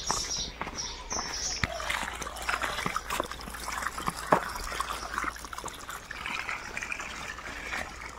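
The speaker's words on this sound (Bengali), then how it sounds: "বাগানটা জল দিনে ওই তো জল এসে গেছে" Water trickling and splashing steadily while a garden is watered, faint and close with light dribbling and occasional footsteps, birds chirping in the background.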